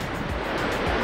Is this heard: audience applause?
no